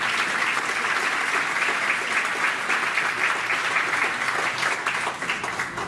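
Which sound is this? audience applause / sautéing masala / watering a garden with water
audience applause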